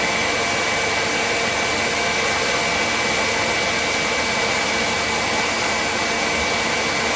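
An electric mixer whips egg whites and hot sugar syrup on high speed for buttercream icing, a loud, steady, close whirring roar with no break throughout.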